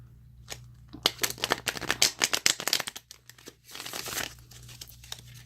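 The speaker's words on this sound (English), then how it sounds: "I'm going to shuffle for a few minutes on camera" Rapid riffling and slapping of tarot cards being shuffled, a quick burst of crisp flutters followed by a second, softer shuffle, close up.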